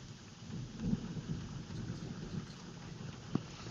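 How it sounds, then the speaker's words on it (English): Thunder rumbles low and continuously through a rainstorm on a fishing outing, a long rolling boom from a big lightning strike with rain hissing steadily underneath and one sharp knock near the end. "That's rolling thunder right there. That means that was a big old long lightning strike."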